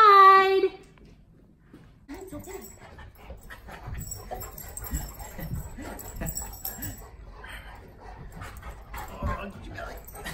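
Dogs greeting someone returning home, giving a high whining yelp at the start, then faint whimpers, panting and snuffling under low background noise.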